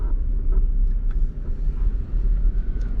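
1991 Honda Civic driving in first gear, a low rumbling engine and road drone steady throughout, with faint intermittent higher noises over the rumble.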